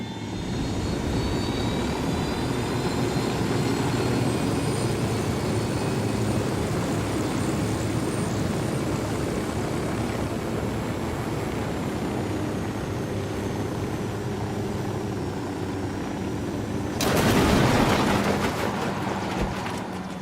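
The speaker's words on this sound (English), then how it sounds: "Helicopter." A helicopter flies overhead, giving a steady, fairly distant engine drone that swells into a brief louder burst near the end.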